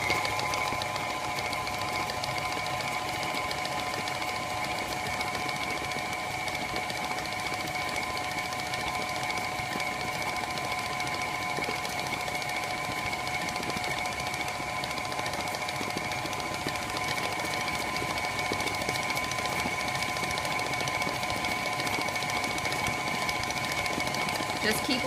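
An electric mixer whirs steadily through vanilla cake batter, a constant loud motor drone with a sucking, churning texture running without break.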